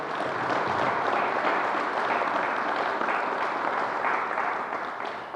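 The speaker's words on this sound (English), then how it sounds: "let's give him another round of applause." An audience at a coronavirus pandemic briefing by New York Governor Cuomo claps steadily for several seconds, a broad sustained round of applause that tapers slightly at the end.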